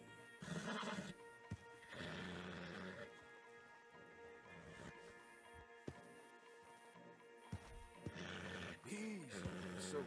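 A stallion in Red Dead Redemption 2 gives several loud, agitated neighs and snorts in bursts across the stretch, with hoof thuds and faint game sounds between.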